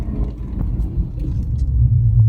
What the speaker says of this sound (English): Gotta love those downshifts. That motor sounds